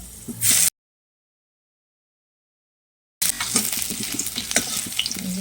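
Chopped ginger frying in oil with whole spices such as bay leaf, cardamom, cinnamon and cloves, a close steady sizzle with stirring scrapes, broken by a long stretch of silence in the middle.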